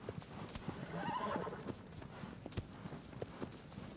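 Mare Agro from Shadow of the Colossus gallops with steady clip-clop hoofbeats and gives a whinnying neigh partway through, with no talk over it.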